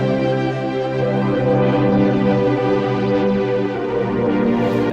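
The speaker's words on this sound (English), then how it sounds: "And then I add in this second synth, which is the Andromeda Complex preset on the Codex." Sustained, thick synth pad from the Codex Andromeda Complex preset, holding a rich layered chord with slowly shimmering movement, steady and loud throughout with no voices.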